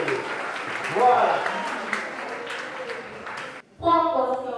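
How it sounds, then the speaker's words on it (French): Applause from a church congregation fills the space for several seconds at a steady, fairly loud level, then cuts off abruptly and gives way to a voice speaking. "Applaudissez."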